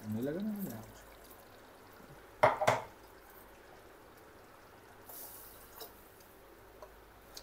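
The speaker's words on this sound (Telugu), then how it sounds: "ఇప్పుడు వాటర్ వేస్తానండి." Water is poured into mutton kheema cooking in a pan, a brief splashing burst midway through an otherwise quiet kitchen with faint stirring sounds.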